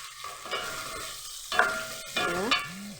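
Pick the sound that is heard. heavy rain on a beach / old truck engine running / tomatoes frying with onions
tomatoes frying with onions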